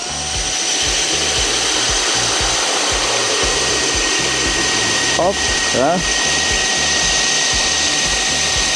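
A powered ice auger drills through the frozen surface of Lake Bārta in first gear, its motor whining in a loud, steady drone that runs the whole time while someone briefly speaks.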